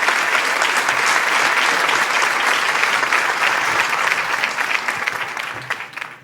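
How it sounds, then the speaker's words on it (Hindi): A large audience at a Hindi kavi sammelan claps loudly to welcome the poet Arun Gemini on stage, a thick sustained burst of applause that thins and fades toward the end. "जोरदार तालियों के साथ हम बुला रहे हैं अरुण जैमिनी साहब को।"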